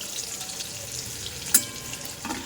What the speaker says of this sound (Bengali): আর এখানে আলুটা ভেজে নিচ্ছি খিচুড়ির।